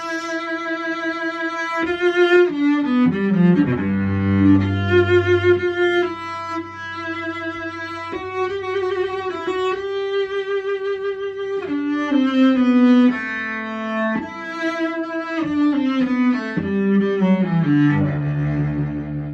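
A piano plays a Haydn excerpt, melodic lines over low sustained bass notes, clear and close with no talking.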